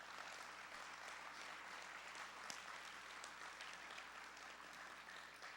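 A high school football banquet audience applauds the players with steady, even clapping that fills the room without letup, sounding somewhat distant and soft.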